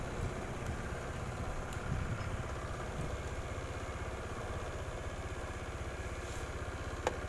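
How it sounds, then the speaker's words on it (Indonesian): A Honda Vario scooter engine runs normally at idle, giving a quiet, even, steady putter close by, with no voices over it. "Motornya hidup normal."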